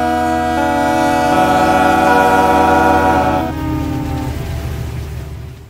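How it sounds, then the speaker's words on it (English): A passing train sounds a loud, sustained multi-tone horn chord that holds for several seconds, shifts pitch partway through, then fades as the rumble of the train recedes. "Here's the final train sound I found, and the final one we will be using today."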